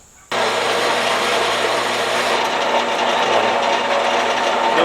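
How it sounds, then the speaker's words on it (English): A bandsaw cuts a slot in metal for a 2x72 belt grinder build, starting abruptly with a loud, steady whirring drone that runs unbroken for several seconds. "I'm going to attempt to do this on the bandsaw."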